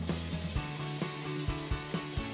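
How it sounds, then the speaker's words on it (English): A can of cooking spray is sprayed onto a baking tray before walnut bread is made. The hiss is close and steady, with faint music under it and a rhythmic thump roughly every half second. "So I'm going to firstly spray my tray."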